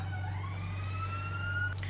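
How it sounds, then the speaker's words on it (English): A police siren wails steadily in the distance, its tone gliding slowly upward, over a constant low drone. "now the police siren is done"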